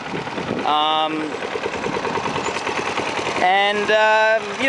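A 1994 Toro SuperPro Recycler II lawn mower with a cast aluminum deck runs at a steady idle, its engine drone continuous beneath someone talking close by.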